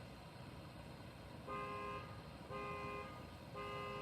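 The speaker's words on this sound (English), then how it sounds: "someone's car horn alarm" A car horn alarm somewhere outside honks in three evenly spaced half-second blasts, each a flat, buzzy tone. It sounds fairly distant over a low rumbling background, and no one talks.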